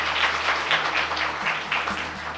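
Audience at a Ramayana quiz competition breaks into hearty applause, a continuous clapping wash with a low hum underneath, steady and fairly loud for the whole stretch.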